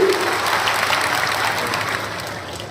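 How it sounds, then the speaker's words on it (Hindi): Crowd applause at a political rally in Ashoknagar for the stage, a dense sustained clapping that starts strong and eases slightly toward the end. "जोरदार तालियां बजाएं समूचे मंच के लिए।"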